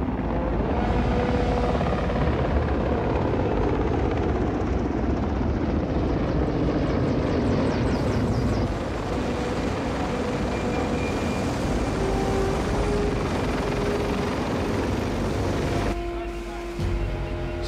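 A helicopter drones loud and steady throughout, its rotor and engine noise thick and continuous, briefly thinning near the end before resuming, with no other clear sounds above it.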